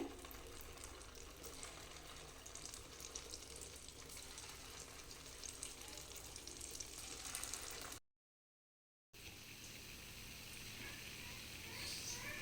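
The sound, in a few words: punugulu batter frying in oil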